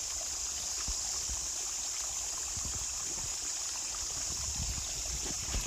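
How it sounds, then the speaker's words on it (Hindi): A natural forest stream trickles and gurgles steadily at low volume, a soft continuous flow with faint splashes and no voices. "बीच जंगल में पानी का सोर्स।"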